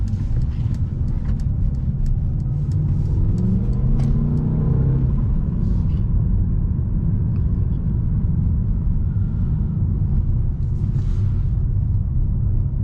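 A 2022 Mercedes CLA 250 4MATIC Coupe driving in sport mode, a steady low engine and road rumble from the cabin with faint clicks and taps early on and no voices.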